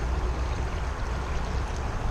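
A small creek flows in a steady, full rushing wash of water, close and continuous with no voices over it.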